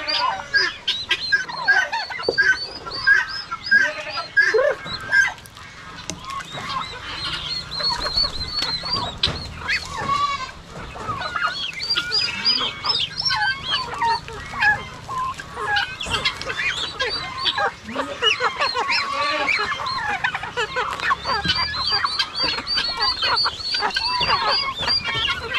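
Chickens, turkeys and ducks on a Philippine backyard farm make a dense, continuous mix of clucking, gobbling and quacking calls, close and fairly loud throughout, with no talk.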